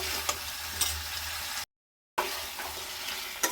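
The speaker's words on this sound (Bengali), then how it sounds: "এবার আমি দিয়ে দিচ্ছি ভেজে রাখা আলুটা। আলুটা দিয়ে নাড়াচাড়া করব" Fried potatoes are stirred into a spice paste in hot oil for a Bengali bata fish curry, a steady close sizzle with occasional scrapes and clinks of the spatula against the pan, briefly cut to silence midway.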